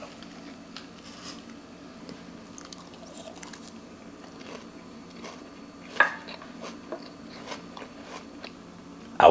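Crunchy kale and apple salad being bitten and chewed close to the mic, a run of sharp crisp crunches scattered irregularly with a louder bite partway through, no talking.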